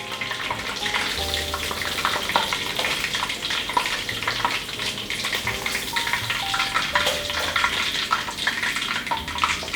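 Chicken skewers deep-frying in hot oil, a dense, steady sizzle and crackle that holds close and loud throughout, with no talking.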